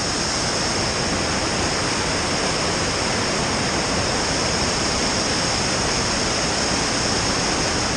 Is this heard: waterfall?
yes